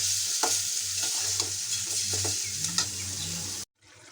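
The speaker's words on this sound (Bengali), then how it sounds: "ঠিক আছে, মাংসগুলা কষাইয়ে নেই।" Country chicken pieces being stir-fried in a pan, with a steady sizzle under repeated scraping and stirring strokes from a spatula, close and clear, ending abruptly.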